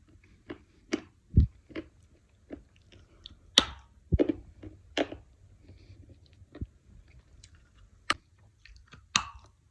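Close, quiet chewing of a dense, hard piece of food, with irregular crunching bites and clicks spread across a mostly silent background and no talking.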